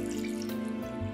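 Water pours steadily from a tap into a container for a watermelon granita with lemon juice and sugar, a continuous splashing stream with a faint hum beneath, close and alone.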